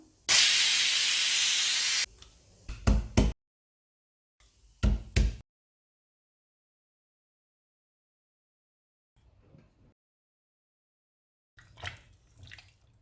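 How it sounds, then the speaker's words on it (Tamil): A pressure cooker cooking chicken garlic pepper soup gives a loud, steady hiss of escaping steam for about two seconds, followed by a few short sharp bursts and faint clatter with long quiet gaps. "இப்போ குக்கரை மூடிட்டு இருந்து அஞ்சு விசிலில் வேக வச்சு எடுத்துக்கலாம்"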